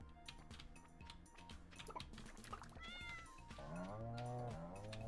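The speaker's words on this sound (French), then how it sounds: "Pourquoi j'ai un de mes trucs qui a fait miaou?" Cat meowing in the farming game Stardew Valley, with a couple of short tonal meows rising out of busy game music and effects, the second one longer and louder near the end.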